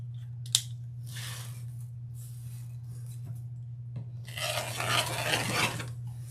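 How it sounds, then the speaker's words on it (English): Scissors snip through decorative wreath mesh for a fall woodland ruffle wreath, a sharp click followed by soft rasping cuts and a louder, sustained crinkly rustle of mesh near the end, over a steady low hum. "this time we're going to cut it at 30 inches"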